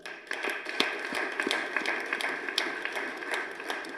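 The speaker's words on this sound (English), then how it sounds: "That deserves a round of applause." An audience at a National Foundry Day evening celebration applauds steadily, a dense, even patter of many hands clapping at a moderate distance throughout, with sharper individual claps standing out now and then.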